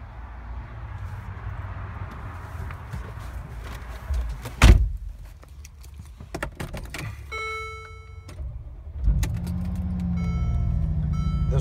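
A Mercedes-AMG G63 sits stationary: a door thuds shut and interior chimes sound, then the engine cranks and catches into a steady, deep idle rumble close by, with no talking.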